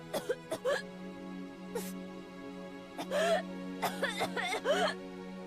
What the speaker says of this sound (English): Oh, you can hear how desperate she is to get a breath.